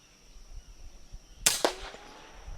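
An FX Impact air rifle fires a single sharp crack at a squirrel outdoors, followed by a brief metallic ring, with quiet ambient noise before and after.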